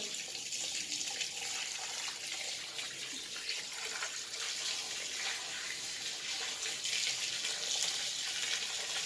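Water sprays steadily inside a washing machine drum during cleaning, a close, continuous hissing rush that holds at an even loudness for the whole stretch with no voices.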